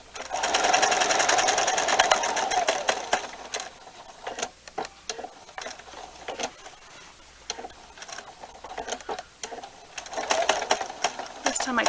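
Sewing machine running in steady bursts as it stitches binding onto a quilt, its rapid needle rattle loud and close, stopping and starting between short pauses.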